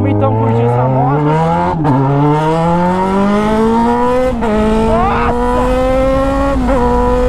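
A new motorcycle's engine runs loud and close, its pitch climbing steadily through gear shifts with brief dips between, like a bike accelerating down a road.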